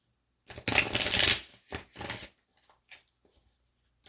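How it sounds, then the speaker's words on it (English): A deck of playing cards is shuffled, a loud riffle followed by a shorter second riffle and a few soft taps and shuffles, close up with no talking. "Let me shuffle these a few times too."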